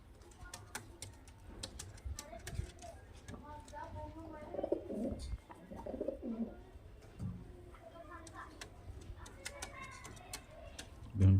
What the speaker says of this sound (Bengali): সেট জোড়া পায়রা দেখতে পাচ্ছেন ফ্রেন্ডস মুর্শিদাবাদি গিরিবাজ লাইনের পায়রা